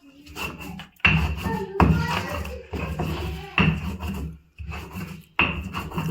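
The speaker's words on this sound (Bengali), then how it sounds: "তো তৈরি হচ্ছে বন্ধুরা চাটনি, দেখুন শিলে বেটে।" Chutney being ground by hand on a stone grinding slab with rock salt added, giving repeated rough rubbing and rasping strokes in bursts of about a second, close and fairly loud, with short pauses between.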